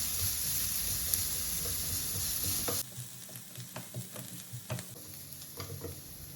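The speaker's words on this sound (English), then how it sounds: "On medium flame, we will saute them well until the onion, ginger, garlic turns golden brown" Minced onion, ginger and garlic sizzle and fry steadily in a pan on medium flame, a continuous hiss for the first few seconds, then quieter scattered crackles and stirring scrapes.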